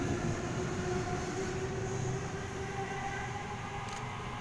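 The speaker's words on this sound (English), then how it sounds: "Now departing Leppington service." A Sydney train departing Guildford station, giving a loud, steady rumble of rolling wheels and motor hum with a constant low drone, close by and unbroken throughout.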